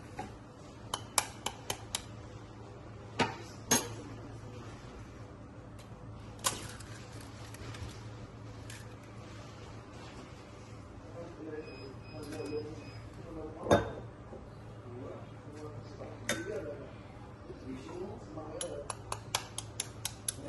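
Eggs cracked and beaten in a bowl for pancakes, scattered sharp taps and clinks of a utensil against the dish, quiet and intermittent, with a voice talking in the background.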